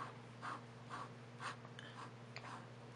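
A Salvatore fountain pen's extra fine nib scratching across paper while held upside down, giving short, soft strokes in a loose rhythm, faint and close.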